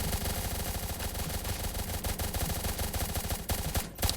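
Soldiers shooting in a Roblox tower defense game, a dense rapid rattle of automatic gunfire, continuous and fairly loud throughout, with no talking.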